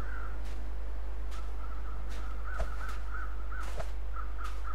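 Crows caw repeatedly over a corpse in the survival game The Long Dark, a steady series of hoarse calls at moderate distance over a constant low wind drone.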